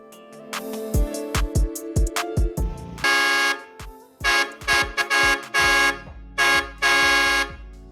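Vixen air horns on a 1952 Chevy 3100, fed by a compressor at 120 PSI, blast in a series of short toots then longer loud honks, rhythmic and close with brief gaps.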